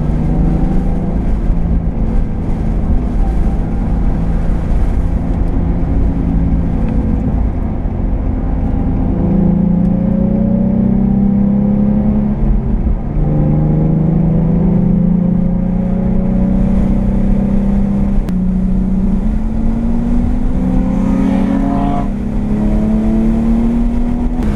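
A Nissan 350Z drives an outlap at Harris Hill Raceway, its engine droning loud and close from inside the car, climbing through the revs and dropping back at each shift across a long continuous run, with no talking.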